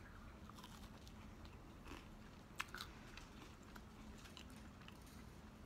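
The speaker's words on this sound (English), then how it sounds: "So this time I'm actually going to taste the burrito" Close, crisp bites and chewing of a crunchy tortilla burrito filled with spicy chicken and beans, quiet mouth crunches scattered through the clip with a couple of sharper cracks.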